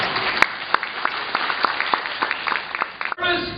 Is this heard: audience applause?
yes